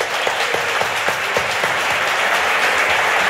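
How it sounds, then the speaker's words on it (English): Loud, close applause from an audience at a Startup Grind talk in Tbilisi, dense and even clapping with a few distinct nearby claps standing out, lasting throughout with no talk. "So first, round of applause."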